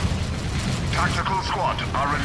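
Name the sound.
grenade explosions in video game Dawn of War 3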